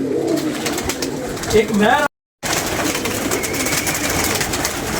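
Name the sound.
pigeons cooing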